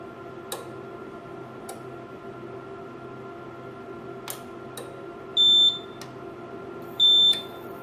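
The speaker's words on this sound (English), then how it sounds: "Best part about this UPS is we can in fact stop the beeper" A homemade lithium-ion 18650 UPS beeper sounds two short, loud, high electronic beeps near the end, over a low steady hum and a few faint clicks.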